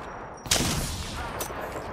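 Gunfire in an online shooter game, with a sharp burst of shots cutting through steady background noise, then a second brief crack later, loud and close with no talk.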